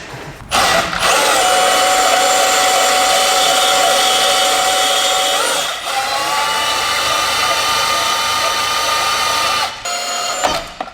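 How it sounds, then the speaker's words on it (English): A bandsaw cutting rear spacers in a shop, a loud close whine with steady tonal hum, briefly dipping mid-cut and again near the end as the blade works through the material. "Let's see if the bandsaw will do it."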